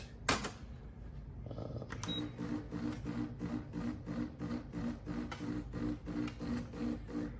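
A HiBREW H10A espresso machine in brushed stainless steel pulls a shot, its pump throbbing in a steady, rhythmic pulse of close mechanical hum after an initial click and whir.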